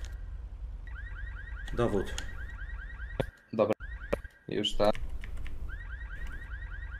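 A car alarm in GTA V roleplay wails in a repeating rising pattern throughout, with brief clicks and people talking over it in the middle.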